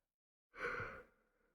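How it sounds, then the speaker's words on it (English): A single yawn: a sudden breathy exhale that swells, then trails off softly into quiet, close and fairly faint. "Sorry, my yawning."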